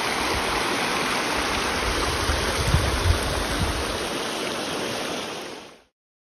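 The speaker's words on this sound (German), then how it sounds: "Hier fließt das Wasser." Water rushes steadily along a stream at Band-e Amir in Afghanistan, a loud, continuous broadband flow heard close up with no talking, fading out abruptly at the end.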